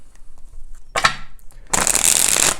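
Cards being shuffled close up: a short riffle burst, a pause, then a longer, louder crisp riffle and bridge of the deck.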